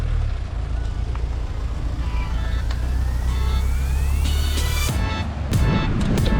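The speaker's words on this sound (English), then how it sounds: "Waiting behind all these cars." Cars idling and creeping along in a queue on Going-to-the-Sun Road, a steady low engine rumble with tire and road noise, some nearby vehicle sounds and brief clanks toward the end.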